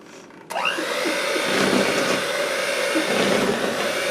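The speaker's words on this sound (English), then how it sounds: "always leave the fork in there when you get ready to use your blender" A kitchen blender switches on abruptly and runs at a steady high whine, mixing turkey burger ingredients with a fork left in the mix, loud and close, alone without talk.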